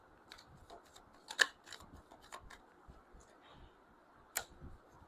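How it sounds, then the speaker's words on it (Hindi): Tarot cards being shuffled by hand, a soft run of papery clicks and flicks with a couple of sharper snaps, close and quiet with no talking. "मैं शफल कर रही हूँ"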